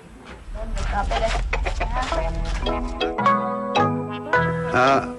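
Chickens cluck and squawk at close range in a village in Bayunggede, Kintamani, Bali, with a rooster's crow breaking in amid a busy, overlapping chorus of farmyard fowl.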